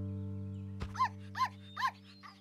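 A cartoon puppy gives four short, evenly spaced barks, close and clear, fading slightly on the last, over a quiet sustained musical background with a brief thump just before.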